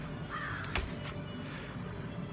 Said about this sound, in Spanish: tengo que soportar a este pinche pájaro de mierda